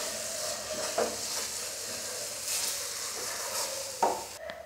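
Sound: stirring carrot halwa after adding cardamom powder

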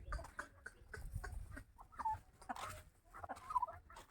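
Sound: chickens clucking

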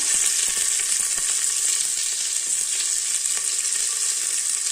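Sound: onions frying in oil with cumin, pepper, mustard

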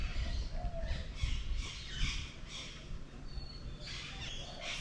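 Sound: birds squawking outdoors in Costa Rica

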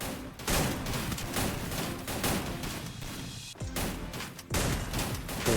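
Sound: shotgun gunfire in Free Fire video game

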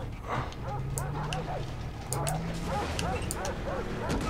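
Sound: dogs barking and yipping in video game Far Cry 3

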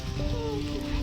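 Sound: light rain

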